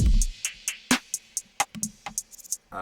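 A drum loop of bright metallic cymbal strikes over a low kick, the ride pinging in a steady, fairly fast rhythm with no voices.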